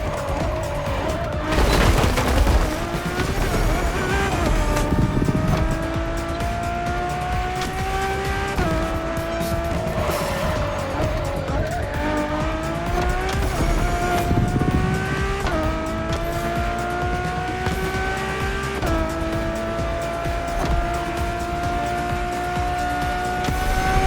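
A Ferrari road-legal Formula One car in The Crew Motorfest screams through its gears, its high engine note climbing and dropping with each shift and tires squealing briefly early on, loud and close throughout with no talking.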